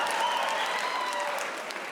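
Comedy club audience applauding steadily, a dense continuous wash of clapping that stays loud throughout with no talk over it.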